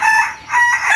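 Rooster Kinantan crowing in a crowing duel, one loud, close crow that swells, dips briefly mid-call and rises again, filling the whole second.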